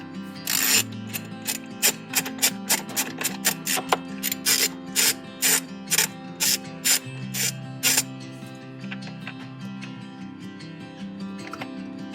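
Ratchet removing two 7mm screws from a lower dash panel in a Chevy Colorado, in quick bursts of close, crisp clicking with short pauses between runs, then settling into quiet.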